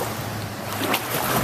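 A 1957 23-foot Lyman runabout with an old flathead six engine, out on open water: steady engine rumble blended with wind and waves slapping the hull, fairly close and continuous throughout, no voices.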